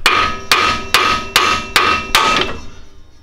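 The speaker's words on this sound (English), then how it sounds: "now with this upper, basically hit it with a hammer" Six sharp hammer strikes on the upper control arm of a 2009-2013 Ford F-150 during a leveling kit install, each metallic bang evenly spaced about half a second apart with ringing decay, close and loud, then quiet.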